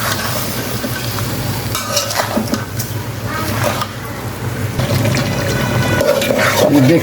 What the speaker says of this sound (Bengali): চিনিগুলো ভালো করে মিক্সার করে নেব